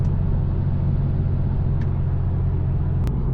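BMW 340i with an aftermarket exhaust gives a continuous deep, loud rumble heard from inside the car, steady throughout with a faint click near the end.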